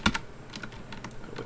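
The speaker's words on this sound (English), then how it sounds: "Watch which buttons I'm pushing on my keyboard shortcuts." Computer keyboard shortcut keys are pressed in a few quick, close clicks, one louder pair of taps at the start followed by lighter scattered key presses, with no speech.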